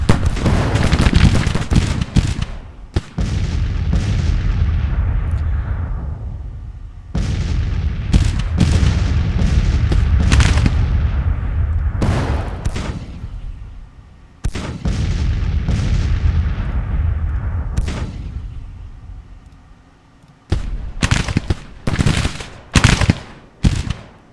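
Thunderous artillery booms and crackling musket and rifle volleys fill a Civil War battle in the strategy game Grand Tactician: The Civil War. The blasts come loud and dense, in long rolling bursts broken by brief gaps, ending in several sharp separate shots.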